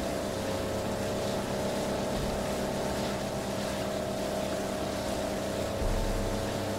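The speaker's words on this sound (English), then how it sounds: "This boat is really loud." A motorboat engine in the video game Far Cry 5 drones steadily and loudly throughout, with a constant low rumble and no talking.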